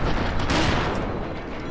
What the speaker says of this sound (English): he just blew up one of the friggin' generators